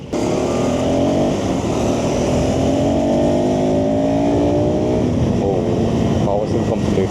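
A KTM 390 Adventure 350cc motorcycle engine roars loud and close at open throttle, its pitch climbing steadily as it revs, then easing near the end amid wind rush.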